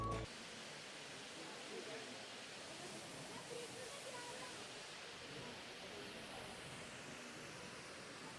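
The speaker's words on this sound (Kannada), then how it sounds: "ನಾವು ಅಬ್ಬಿ ಫಾಲ್ಸಿಗೆ ಬಂದಿದ್ದೀವಿ." Abbi Falls, a waterfall near Madikeri, rushes in a steady, broad roar that stays even throughout, with no talk and no pauses.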